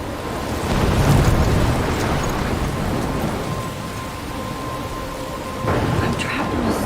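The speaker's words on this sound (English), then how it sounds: "I'm trapped in a storm?" Steady heavy rain and rumbling thunder fill a stormy scene in the video game Life Is Strange, with a louder roll of thunder near the start and another swell toward the end.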